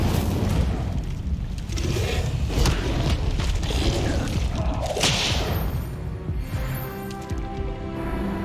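The Incendio fire spell cast in the Hogwarts Legacy video game on Xbox Series X, a loud whooshing burst of flame over dense, continuous game noise.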